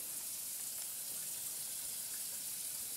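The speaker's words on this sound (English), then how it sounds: "turn on the water" Water runs steadily from a kitchen tap while a knife is rinsed, making a continuous soft, even hiss and splash throughout, with no voices.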